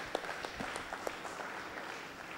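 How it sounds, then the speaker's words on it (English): An audience at a Cluster 2024 college event at Bishop Heber College in Trichy applauds National College, with a short burst of scattered hand claps at moderate distance, fairly faint. "Please give a round of applause, National College."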